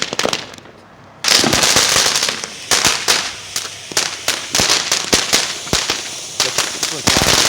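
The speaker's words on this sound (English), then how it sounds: "Pretty good firework." A string of firecrackers bursts in rapid, irregular loud pops and crackles after a brief quiet start, continuing densely to the end.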